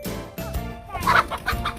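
Several chickens cluck in short, overlapping calls at close range as they come out to feed on scattered food, with a soft shuffle of movement and activity around them.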